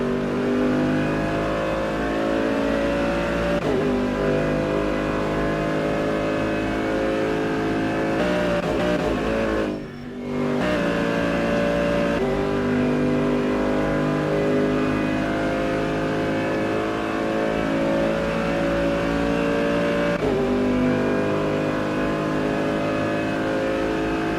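Race cars on a formation lap at the Nürburgring 24-hour race roar steadily for a long stretch, engines droning and revving loudly with a brief sharp dip in the middle.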